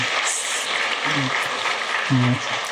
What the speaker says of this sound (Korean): 이 정직권 형제님을 포함한 15분들 정말 다시 환대의 박수 한번 드리면 좋겠습니다